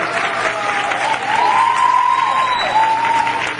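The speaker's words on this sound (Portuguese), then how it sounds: "por favor, palmas aí, professora" An audience at a lecture on global warming claps steadily for a few seconds, a dense, even wash of applause filling the hall, with a faint whistle-like tone riding above it.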